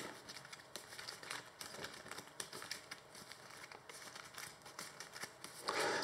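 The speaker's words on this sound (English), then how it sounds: "We shuffle out the encounter deck." Cards of an encounter deck for the Lord of the Rings card game being shuffled, a steady run of quiet papery riffling and clicking that goes on without a break and grows louder near the end.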